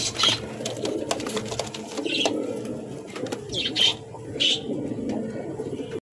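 Giribaz pigeons in a pair cooing, soft repeated coos scattered through the clip over a low background murmur, close by.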